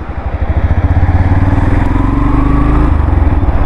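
A Yamaha FZS V4 motorcycle engine pulls hard and close, its pulsing exhaust note rising steadily through the revs with a firm, loud, continuous throb and no talk over it.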